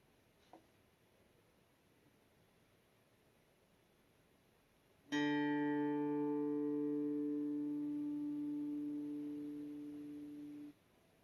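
A sustained electronic pitch-training tone on the note D sounds alone after about five seconds of near silence, steady and fairly loud with a slow fade, then cuts off.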